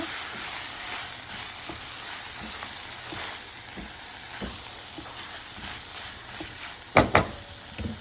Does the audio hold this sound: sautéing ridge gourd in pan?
yes